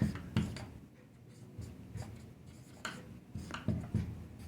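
Chalk or marker writing on a board during a class 10 science lesson on reflection of light, a series of close scratchy strokes and taps in irregular bursts with brief pauses between words, no talking.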